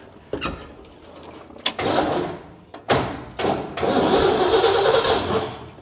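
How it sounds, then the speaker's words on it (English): 1977 Ford F100 truck engine cranking in gear with the clutch held and the coil disconnected, giving a series of uneven starter bursts with thumps, ending in a longer grinding crank, close and loud. "I'll hold the clutch in with it in gear and crank it."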